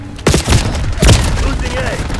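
A frag grenade goes off in a Call of Duty match, two heavy booming thumps a second apart with rumbling tails, loud and close amid battle noise.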